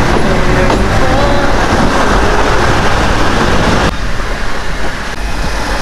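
An old-school train runs on the Tenom railway in Sabah, a loud, continuous rumble of the rolling carriages with a shift in tone partway through, and no talk over it.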